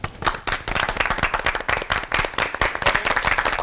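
An audience in a studio hall claps together, a dense continuous round of applause that stays loud from start to finish.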